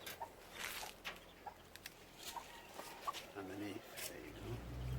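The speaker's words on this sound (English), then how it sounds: "those noises you can hear are actually fighting cockerels." Fighting cockerels in the hills of the Dominican Republic cluck in short, faint bursts at a distance, scattered through the scene while someone speaks over them.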